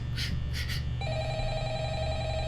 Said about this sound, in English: let's listen to Mr. Phone Man give us a phone call here real quick